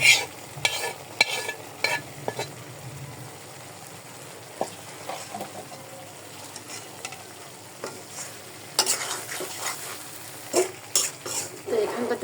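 Hilsa fish pieces added to cooked, sizzling masala, with a steady background fry and frequent close clinks and scrapes of a utensil against the pan.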